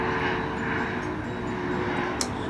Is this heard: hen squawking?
no